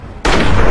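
Hunting rifle gunshot in the video game Fallout 3: a sudden loud single blast after a brief quiet lead-in, followed by a sustained booming echo.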